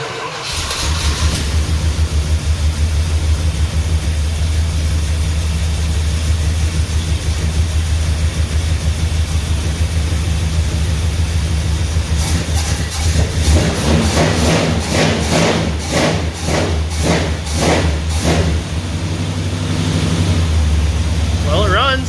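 A 400 big block V8 in a truck runs at a steady, loud, deep idle. Midway through, the engine is revved in a series of rhythmic pulses, then settles back to idle.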